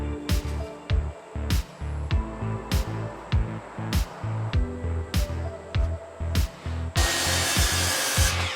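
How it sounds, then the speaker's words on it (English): A saw cutting 2x4 wooden boards to length in a woodworking shop, a regular series of about a dozen sharp strokes, close and loud, ending in a burst of steady power-tool noise. "so I cut a couple of 2x4s to the lengths I needed"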